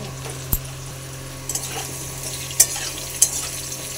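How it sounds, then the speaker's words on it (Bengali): Potatoes fry in hot oil with cumin seeds in a pan, a steady low sizzle broken by a few sharp crackles and pops, close and alone with no talking. "এবার আমি আলুগুলোকে লাল লাল করে ভেজে নেব।"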